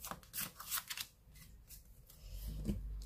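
Tarot cards handled and shuffled by hand in a quiet room, a run of crisp riffling bursts in the first second followed by softer rustling and low handling noise.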